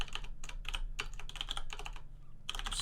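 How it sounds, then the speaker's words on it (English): Fast, steady clatter of keys on a computer keyboard as notes are typed, close and fairly quiet, in bursts with a short pause before the typing resumes; no one speaks. "I'm just quickly typing up these notes"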